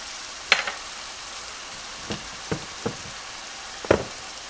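Teriyaki sauce sizzling in a pan of ground beef fried rice, a steady hiss broken by a few sharp utensil knocks and scrapes, close and fairly quiet, with no talk.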